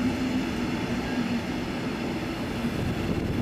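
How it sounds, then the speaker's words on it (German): A train hauled by a class 146 electric locomotive runs at Stuttgart Hbf, giving a steady rolling rumble with a faint tonal whine, loud and continuous, with no voices. "Beide Züge fahren bis Ulm mit einem modernen E-Lok der Baureihe 146."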